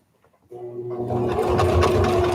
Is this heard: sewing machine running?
yes